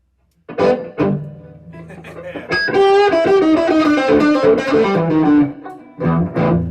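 A distorted electric guitar plays a sustained, gritty melodic line with bent notes, loud and close, after a few brief opening chords.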